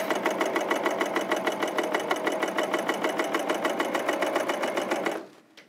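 A Janome CoverPro 3000 coverstitch machine runs steadily at speed while sewing a triple top cover, giving a loud, fast, even mechanical chatter for about five seconds before stopping abruptly.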